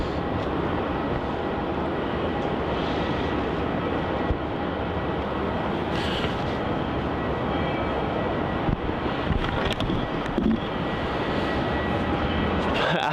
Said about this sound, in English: we've got the United 787 Dreamliner arriving in from San Francisco as UA60